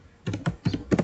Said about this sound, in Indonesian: teman-teman bisa ketik perintah itu